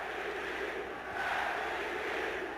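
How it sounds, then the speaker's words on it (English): A basketball arena crowd at a 1984 Knicks at Celtics playoff game chanting MVP, a broad, steady roar of many voices that swells slightly midway, fairly distant and filling the space. "The crowd is chanting MVP for guess who at the free throw line"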